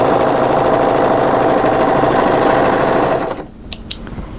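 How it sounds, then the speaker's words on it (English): An overlocker serges along a garment's side edge toward the hem, a loud close continuous whirring hum that cuts off near the end, followed by a couple of faint clicks. "So just overlock from that position to the hem."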